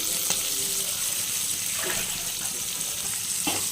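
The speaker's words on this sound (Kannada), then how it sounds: "ಈರುಳ್ಳಿ ಫ್ರೈ ಮಾಡ್ಕೊಬೇಕು." Onions with garlic and green chillies fry in a pan for bitter gourd palya, giving a steady, soft sizzle broken by a few brief scrapes and clinks.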